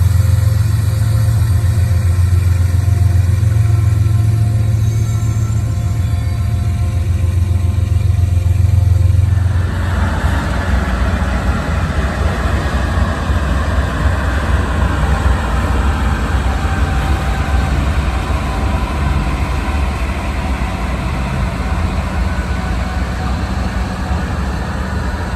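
A freight train passes with a remotely controlled rear distributed-power locomotive, first a loud low diesel drone and then, after a sharp change, steady rolling rumble and wheel noise of passing cars.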